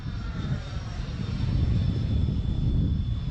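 A Freewing F-14 EDF RC jet passing overhead, a steady loud ducted-fan roar with a thin high whine, holding fairly constant and near throughout.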